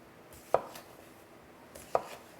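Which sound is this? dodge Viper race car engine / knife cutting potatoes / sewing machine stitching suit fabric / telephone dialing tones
knife cutting potatoes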